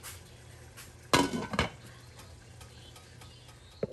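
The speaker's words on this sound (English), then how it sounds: "I'm going to stir that all up, and I'm going to cover it up again for 30 minutes" A pot of simmering Cuban-style black beans is stirred with a spoon, followed by clattering metal knocks as a lid is put on, near and fairly loud over a low steady background.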